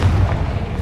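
Confringo spell blast in the Hogwarts Legacy video game, heard as a brief, loud, heavy boom with deep rumble, close and alone, lasting under a second.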